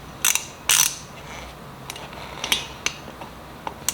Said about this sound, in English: set your rotor back on, install using your T25.